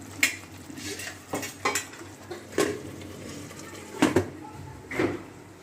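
Metal pot and lid clatter while a tomato and spice masala cooks for a spicy fish curry: several sharp clanks and scrapes, close and fairly loud, with a faint sizzle underneath.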